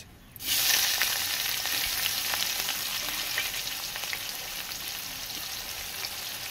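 Loud, steady sizzling of chopped onions frying in hot spiced oil bursts in suddenly and crackles on continuously without pause.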